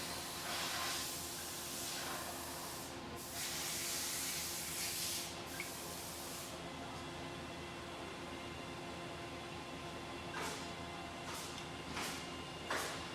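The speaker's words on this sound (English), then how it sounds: "release all pre-charge pressure" Pre-charge gas pressure venting from a Tobul hydraulic accumulator, a steady broadband hiss that holds for several seconds before tapering, followed by a few short separate bursts of release, with no talk.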